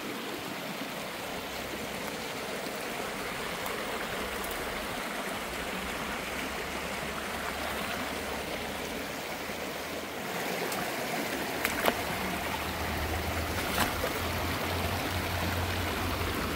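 A calm mountain stream flows in a steady, close, even rush of water, with a few brief knocks and splashes near the end.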